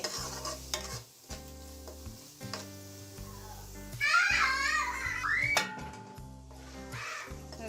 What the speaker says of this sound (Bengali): এখন এই সব কিছু আমি ভালো করে মিক্স করে নিচ্ছি এবং মশলাটাকে একটু ভুনা করে নিচ্ছি